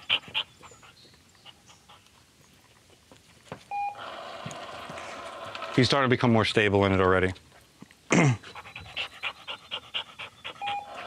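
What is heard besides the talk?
dog panting during fetch training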